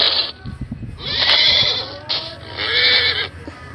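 Horse neighs and whinnies from a zoo video game ring out in several bursts, shrill and fairly close, with brief pauses between calls and no talking over them.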